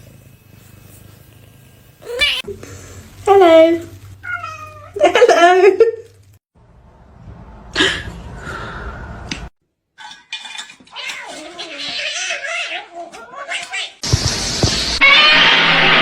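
A cat lets out several loud, drawn-out meows close by, separated by pauses, with a brief spoken greeting and some clattering toward the end.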